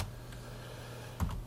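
Fingers tap on a computer keyboard, a quiet steady patter of keystrokes with a slightly louder burst of keys near the end, no voices present.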